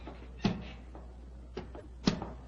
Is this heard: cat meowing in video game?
no